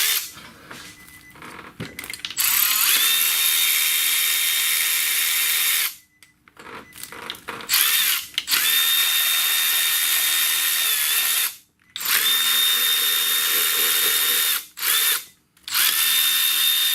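Power drill spinning out the 10 mm valve cover bolts on a 2008 Nissan Altima, loud whining bursts of several seconds each, separated by short silent gaps as the drill moves between bolts.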